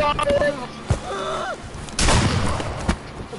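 Gunfire in the Friday the 13th video game: a sharp shot, then a rougher burst of blasts about a second later, ending in another crisp crack. Mid-loud over steady game background.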